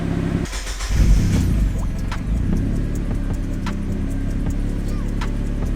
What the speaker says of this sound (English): just at idle, I'm not gonna lie, it's pretty loud